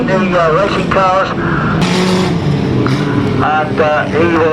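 Racing car engine at a sand racing championship, revving hard as it crosses the finish line, loud and close, with a commentator talking over the engine throughout.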